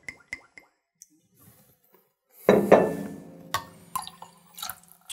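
Godiva white chocolate liqueur poured into a glass, a close splashing pour of liquid lasting a couple of seconds after a few faint clinks and drips, with small glassy taps toward the end.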